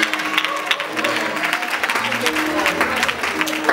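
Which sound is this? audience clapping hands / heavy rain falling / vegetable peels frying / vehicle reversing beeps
audience clapping hands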